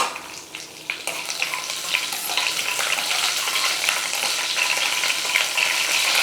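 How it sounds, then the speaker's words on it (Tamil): Cashews with green and dried chillies fry in a pan, giving a steady, loud, close crackling sizzle that holds throughout without pause. "இதெல்லாம் வந்து பொன் வறுவலாக வறுப்படட்டும்"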